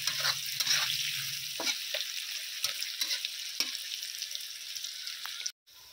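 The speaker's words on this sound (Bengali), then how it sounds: "পেঁয়াজটাকেও আমি গোল্ডেন করে ভালো করে ভেজে নেব।" Chopped onions fry to golden in hot oil with a soft continuous sizzle, broken by several sharp spatula scrapes and knocks against the pan before a sudden clatter near the end.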